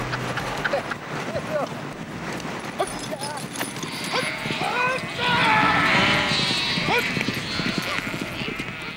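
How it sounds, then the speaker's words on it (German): Sheep being herded by a gaucho on horseback on a Tierra del Fuego estancia, with bleating, hoof clatter and scattered calls under continuous narration by a voice. "Heute muss sie mit ihrem Gaucho die Schafe zusammentreiben."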